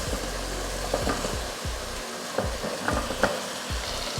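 Mushrooms sizzle and fry in a biryani masala gravy while a spoon stirs and scrapes the pan in repeated strokes, loud and close, with no talking.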